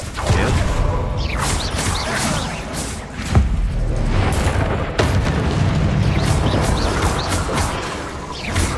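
Explosive blasts from the Bombarda spell in the Hogwarts Legacy video game, loud booming bursts with sharp thuds over a dense, continuous rumble of in-game action and effects, up close and filling the whole stretch.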